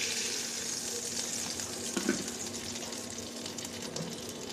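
Taki fish frying in hot oil, a quiet, steady sizzle and crackle with a few small pops, continuing without a break and with no voice over it.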